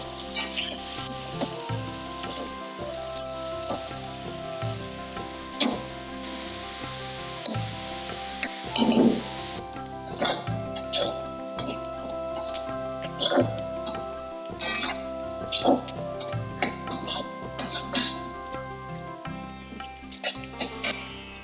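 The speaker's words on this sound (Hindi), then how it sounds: "अब डालेंगे ये चॉप किया हुआ प्याज, अदरक, लहसुन, हरी मिर्च, जिसे सुनहरा होने तक भून लेंगे।" Chopped onion, ginger, garlic and green chili sizzle steadily in a pan for a matar paneer, with stirring scrapes and clinks over the continuous frying hiss; someone talks briefly partway through.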